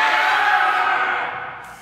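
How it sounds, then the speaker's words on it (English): One half of an open-stage audience lets out a loud group scream, a sustained massed yell that holds steady and then trails off near the end. "Okay, so I want this side of the room to scream."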